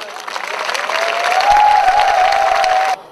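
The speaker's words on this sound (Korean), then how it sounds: "지금까지 열정적인 공연에 출연하신 팀들에게 정말 다시 한번 큰 박수 부탁드립니다" A large audience at an army base entertainment show applauding the performers after the finale, clapping and cheering that builds to a steady roar, with a voice speaking over it, before cutting off abruptly.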